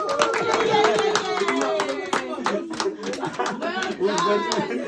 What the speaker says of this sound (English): just to clap hands for us